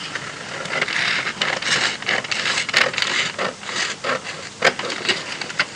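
Scissors cutting through a paper godet pattern piece, a run of close crisp snips and rustles with papery crackle, fairly loud and without talk.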